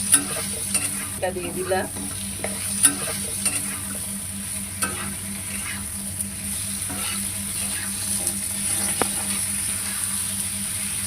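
Ridge gourd dropped into a hot pan of fish curry sizzles and crackles, with bursts of stirring and scraping over a steady frying hiss; a voice speaks briefly.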